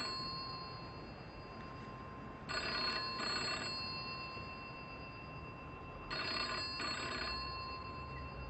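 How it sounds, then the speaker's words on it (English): A telephone rings on its own in two separate bursts a few seconds apart. Each burst is a quick double trill of the bell, moderately loud over a faint room hiss. "If the phone rings, don't answer it."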